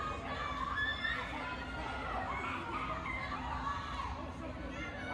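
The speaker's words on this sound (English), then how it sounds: "Now this crowd getting in the face of Jay Spade chanting cowboy at the wild card." A wrestling crowd chants and shouts at a wrestler, a dense, raucous mass of voices with cheering and chatter that stays steady throughout, set a little back from the listener.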